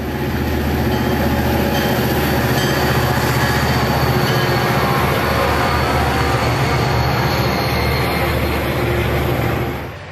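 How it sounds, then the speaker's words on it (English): An SLR SD40-2 locomotive, number 3003, rumbles past trailing two Wisconsin Central SD45s on Norfolk Southern train 175, with a continuous loud diesel drone, rolling wheel noise and faint squeal over about ten seconds. "Here is a clip of the 3003 on Norfolk Southern 175, trailing two Wisconsin Central SD45s."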